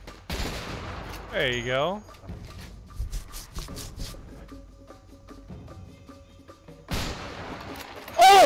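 Gunshots in the video game A Way Out, a few sharp isolated cracks scattered between stretches of game sounds and a short spoken remark, with one loud burst near the end.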